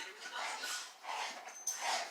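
Pit bulls playing together make soft, continuous whimpers and yips at close range, with a brief squeak near the end.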